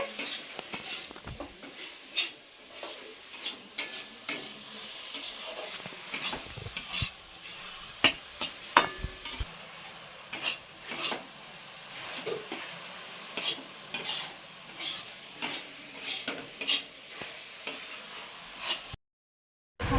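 Grated coconut frying with sugar in a pan for coconut sweets: a continuous soft sizzle under frequent sharp, rhythmic scraping and clinking of a utensil stirring against the metal, close and loud, ending in a brief silence.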